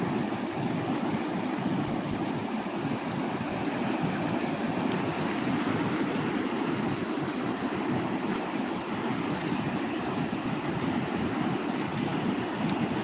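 Flooded river water rushing past a village farm area in Jamnagar district after heavy rain, a steady, dense roar of moving water with wind buffeting the microphone, continuous and close throughout.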